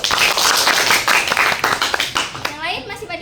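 Students in a classroom clap together, a dense burst of applause that thins into scattered claps, with voices chattering over the end.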